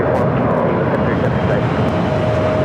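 A jet airliner roars steadily on takeoff at Phoenix Sky Harbor airport, a loud, dense, unbroken engine rumble filling the whole clip.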